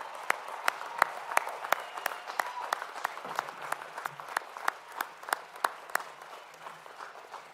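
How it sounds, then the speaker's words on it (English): An audience at the Syosset High School 2021 graduation claps. Sharp, distinct hand claps repeat steadily over a soft background, sounding like a modest, fairly sparse round of applause. "let's give everyone a great round of applause to show our appreciation"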